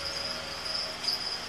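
Feeder crickets kept for reptiles chirp in a steady, thin trill that runs continuously and fairly close, with no voices over it.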